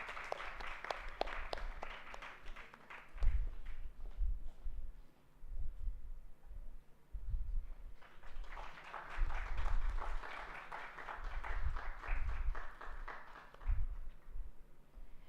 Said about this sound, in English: Can we have a huge round of applause for our mentors?